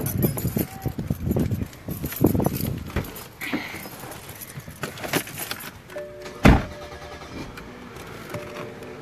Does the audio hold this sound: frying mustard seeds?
no